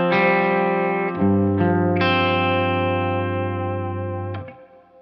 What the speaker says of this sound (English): this is what that sounds like with everything routing back through the Astro's power amp through the 412